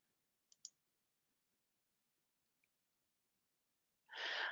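A quick pair of close, crisp mouse clicks in a quiet room, followed by a faint lone click and then a breathy exhale.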